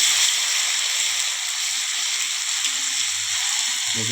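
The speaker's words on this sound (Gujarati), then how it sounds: "હવે તેમાં આપણે લસણ મરચાંની પેસ્ટ નાખી દઈશું. એને બરાબર હલાવી દઈશું" Garlic chili paste is stirred into hot oil with popped mustard seeds, giving a loud, continuous, even hiss of frying that stays close and unbroken, with faint low stirring scrapes underneath.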